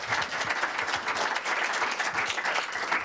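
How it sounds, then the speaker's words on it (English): A conference audience gives warm applause to panelists, a steady, moderately distant patter of many hands clapping that continues evenly without speech. "a warm round of applause again for our panelists"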